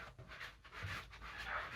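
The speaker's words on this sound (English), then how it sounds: "Apologise for the dogs again." Dogs pant in quick, steady breaths close by, a soft rhythmic huffing that continues throughout with no talking.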